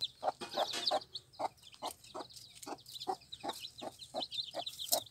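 Chickens and chicks on a small poultry farm, a steady run of soft, repeated clucks and high peeps, close but fairly quiet throughout.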